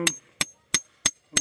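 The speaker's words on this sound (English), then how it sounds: "I'm going to hammer this down" Hammer blows drive a trap stake into the ground, five sharp, evenly spaced strikes roughly a third of a second apart, close and distinct with quiet gaps between them.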